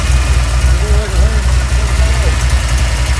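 A 1971 Pontiac Le Mans hot rod with a 454 big-block engine and stainless Holley headers idles with a steady low rumble and throb, loud and close throughout.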